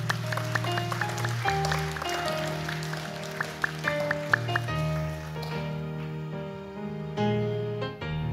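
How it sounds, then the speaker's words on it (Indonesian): Wedding guests at a church ceremony applaud after the couple lights a candle, a light scattered patter of clapping under steady music that tapers off midway. "Mari kita beri tepuk tangan."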